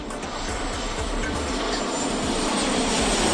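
Airliner flying from Tokyo to Kyushu, a steady loud broadband cabin drone of jet engines, continuous and even throughout with no talking.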